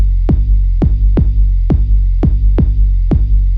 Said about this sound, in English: When I solo them, you can hear some distortion and weirdness.